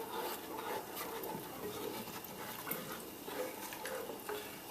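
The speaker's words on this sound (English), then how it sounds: "So all we're going to do is just go ahead and stir this up some." Soft, continuous scraping and swishing of a spoon stirring homemade Memphis-style BBQ sauce with brown sugar and apple cider vinegar in a pot, faint and close with uneven rhythmic strokes.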